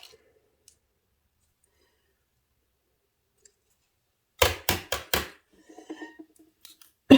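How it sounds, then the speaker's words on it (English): Tape peeled off an embossing machine in a quiet room, a quick run of four loud ripping pulls followed by softer crackling and small clicks. "So we'll take the tape off."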